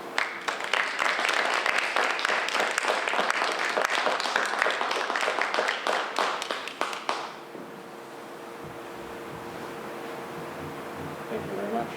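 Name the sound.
applause at village annual meeting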